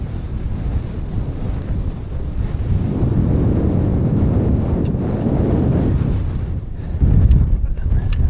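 Strong wind buffets a microphone on an exposed fell on the Fairfield Horseshoe, a loud, low, continuous roar that swells and gusts, peaking hardest near the end.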